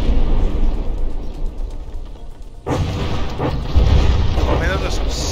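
Heavy battleship guns firing in the From the Depths naval combat game, with deep booming blasts and rumbling explosions after a sudden loud onset midway, a dense continuous roar beneath a voice talking over it.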